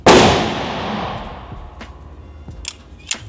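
A Staccato HD P4 pistol fires one loud, sharp shot that rings away as a decaying echo, then a few fainter clicks and clinks follow.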